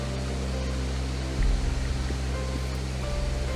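A pumping waterfall in a rugged Blue Mountains canyon in Australia roars as steady, dense broadband rush, loud and close, with a heavier low surge partway through and no voices.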